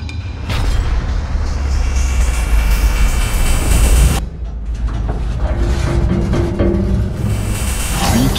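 A Ford F-150 electric pickup pulling a train: a loud, continuous mechanical roar with heavy low rumble, briefly dropping off midway before surging back as the truck strains and moves under load.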